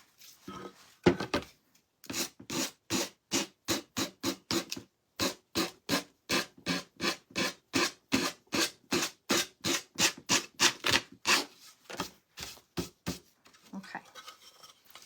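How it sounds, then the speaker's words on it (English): Rough sandpaper scrapes back and forth across a surface in quick, regular strokes, dozens in a row with brief pauses, close and clear with no talk. "Let me sand this off."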